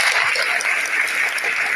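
A dense, steady wash of clapping from a large crowd at a school event in Mandsaur, India, loud and sustained throughout with no voices breaking through.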